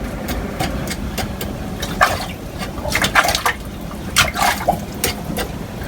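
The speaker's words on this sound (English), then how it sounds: "You can just splash to get those away." Water is splashed by hand along a swimming pool edge to wash away seeds and debris: a run of irregular sloshing splashes, some sharper than others, over a steady low mechanical hum.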